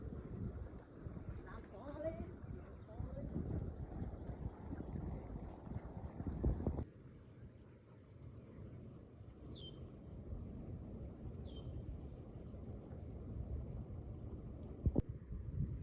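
Large wind turbine whooshing outdoors, a steady broad roar with gusting wind buffeting the microphone, loud at first then dropping to a lower rush, with a few faint chirps and a sharp knock near the end.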